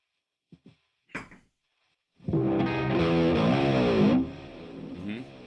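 Distorted electric guitar heard through an effects unit during a live stream, a few sharp plucked notes followed by a sustained, buzzing chord with bending pitch that holds for about two seconds and then rings on more quietly.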